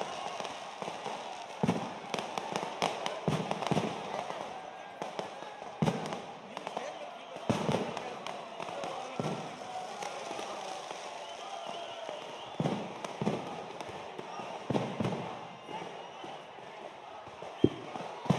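Firecrackers at the Ramanagara festival crackle in repeated bursts across a busy outdoor crowd, some cracks sharp and close, others scattered, over a constant murmur of voices.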